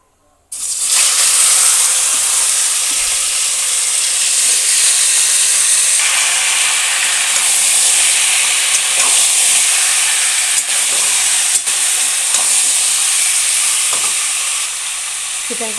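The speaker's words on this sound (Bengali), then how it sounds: "এবার আমি চিকেনটাকে হালকা ভেজে নেব।" Chicken pieces lightly frying in a pan, a loud, dense, continuous sizzle that starts abruptly and holds steady throughout, with a few faint clinks of utensils, heard up close.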